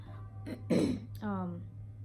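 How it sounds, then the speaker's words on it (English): A single cough followed by throat clearing, close and clear over a steady low background hum. "this cough is from New York"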